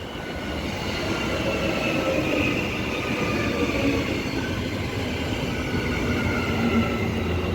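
Transperth EMU electric train passing Murdoch station on the Mandurah line: a continuous loud rolling rumble with wheel noise and faint high squeals, steady throughout.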